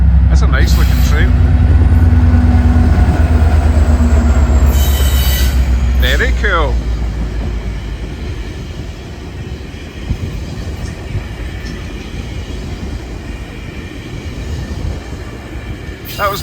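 Older-style GO Transit locomotive rumbling past trackside in Ontario, loud and close at first and then fading as the rail cars roll by with wheel squeal, while a person speaks briefly nearby.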